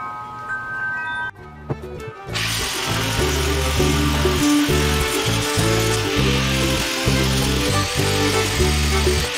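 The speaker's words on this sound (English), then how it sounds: "it's time for me to get the grinder and get rid of all the rest of this wood." A grinder strips the remaining old wood from a Bertram 25 boat during a DIY restoration: a loud, steady, gritty whine that starts abruptly after a couple of seconds of quieter tool noise and runs continuously with a slightly fluctuating load.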